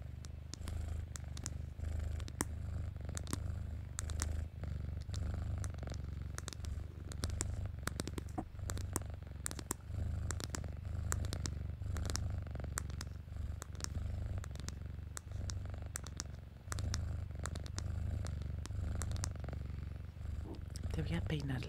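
A voice imitates a cat purring in an ASMR roleplay, a soft, continuous low rumbling purr close to the microphone, broken by small crisp clicks and taps, with gentle whispered talk in places.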